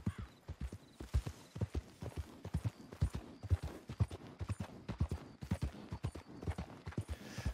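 Horse hooves clip-clop steadily in Red Dead Redemption 2, a close, loud and even walking or trotting rhythm of many hoof beats, with no talking.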